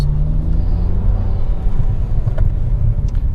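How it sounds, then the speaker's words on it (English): A truck rumbling past on a road, a steady low-pitched roar holding at close range for the whole stretch with no talk over it. "There's a truck coming."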